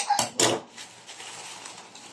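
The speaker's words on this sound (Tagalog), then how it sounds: "At ang ingay pa rin ng aso ko." A pet dog, one of four in the house, gives two sharp barks close by, then a quieter stretch of faint whimpering or shuffling sounds.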